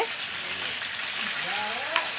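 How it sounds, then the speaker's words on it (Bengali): Paneer frying in a pan at a nighttime family picnic, a steady close sizzle of hot oil with faint background voices underneath. "আর এইদিকে পনির ভাজছে"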